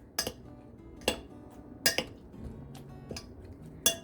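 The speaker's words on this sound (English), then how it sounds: "Now I'm just going to stir." Metal spoon stirring hot microwaved apples in a dish, giving sharp, separate clinks and scrapes at irregular intervals, close and clear with no talk.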